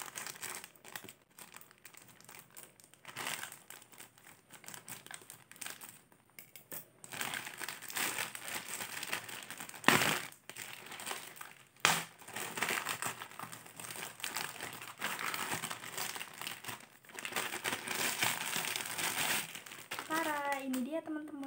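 A Shopee Express parcel in a plastic package being opened, with steady crinkling and tearing of plastic that goes on throughout, sometimes louder, and brief bursts near the end.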